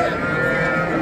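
A cow moos in a long, steady, loud call at a Friday livestock market in Pastdarg'om, Samarkand, where cows are sold with their calves; market bustle continues beneath it.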